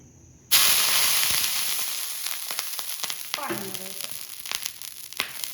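Dosa batter fries in oil on a nonstick pan, a loud sizzle bursting in abruptly after half a second and then settling into a steady close hiss with scattered crackles and light scraping.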